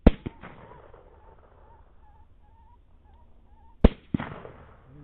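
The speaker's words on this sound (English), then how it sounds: "Unfortunately, Matt fires a warning shot at him first, but backs it up with one of the best running shots I've ever seen." Gunshots fired while hunting, a running shot at game outdoors: a sharp crack and a second close report at the start, a quiet stretch with faint bird calls, then another loud crack and a further shot.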